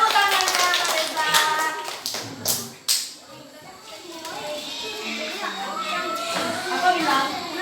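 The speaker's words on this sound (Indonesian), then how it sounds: "Tepuk tangannya Reza." Schoolchildren in an elementary classroom clap their hands in a quick rhythmic burst while young voices chatter and sing along. The room is lively and noisy, and the clapping fades into continued children's talk.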